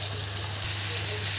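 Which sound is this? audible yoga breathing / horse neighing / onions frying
onions frying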